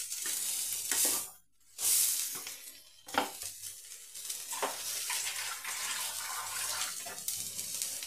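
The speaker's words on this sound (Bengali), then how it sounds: "এর মধ্যে পানি দিয়ে দিলাম" Water goes into lentils frying in a hot pan, starting as a bright hissing splash that settles into softer bubbling and intermittent stirring.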